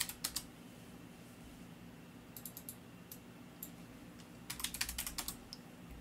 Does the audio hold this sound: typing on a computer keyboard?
yes